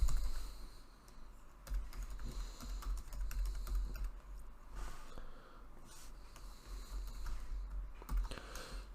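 Fingers type on a computer keyboard, writing a line of Java code for a beginner programming project. The keystrokes are quiet, steady and close, with brief pauses and a faint sniff, and nobody speaks.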